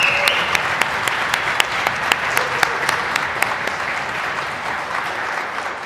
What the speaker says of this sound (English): I want to give a huge round of applause to all the volunteers that have helped with this